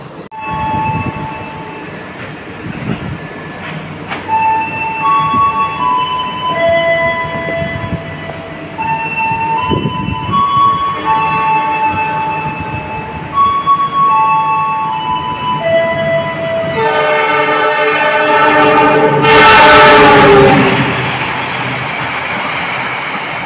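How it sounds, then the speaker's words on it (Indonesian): Train sounds at Kutoarjo station, where a locomotive has finished shunting duty. Rumbling and clanking run under tonal squeals, rising to a loud, bright horn-like blast near the end, with no talking. "di situ ada lokomotif yang selesai dinas atau selesai dinas langsir ya"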